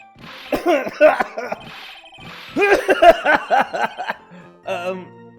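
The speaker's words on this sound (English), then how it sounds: "can that stupid cough possibly sound any phonier?" A staged, exaggerated cough from a character in the courtroom game Phoenix Wright: Ace Attorney, in a few voiced, hacking bursts up close, followed by a short game chime.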